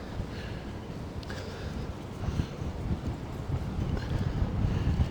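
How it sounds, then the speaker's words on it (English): Wind gusting on a cold, frigid city street in Bushwick, New York, a rough continuous low rumble buffeting the microphone and building toward the end. "It's a windy day, a cold, frigid, windy Tuesday."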